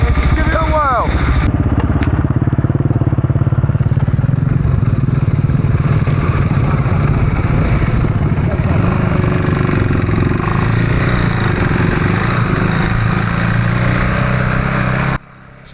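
A KTM 390 Enduro R motorcycle with a new Michelin Tracker rear tyre is ridden, its engine droning loud and steady up close for about fifteen seconds before cutting off abruptly.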